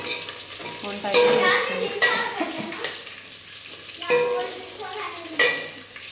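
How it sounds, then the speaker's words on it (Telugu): A vegetable curry of broad beans, tomatoes, bitter gourd and brinjal stirs and fries in a pot, with a steady close sizzle and repeated scraping stirs, stronger strokes near the start and middle, and no talk. "ఇంకా కూర అయితే చేస్తున్నా."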